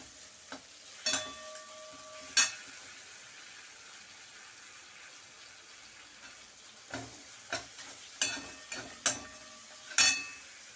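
Tomato chutney ingredients with flattened rice are sautéed and stirred in a pan, giving a faint, low sizzle broken by scattered sharp scraping strokes of the spoon, clustered toward the end.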